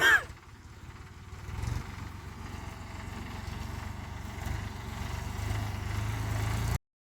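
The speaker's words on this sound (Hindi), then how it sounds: "और वो देखो जी बबलू भाई ने कितना शानदार मल्चर चला दिया जी महिंद्रा 275 DI TU पे।" Mahindra 275 tractor running a mulcher on a farm: a steady, close, low engine rumble that holds evenly for about seven seconds before cutting off.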